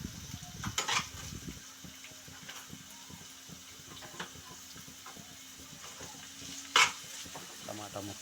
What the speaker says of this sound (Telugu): కొద్దిగా బాగా మగ్గనివ్వాలి, ఫ్రై అవ్వాలి.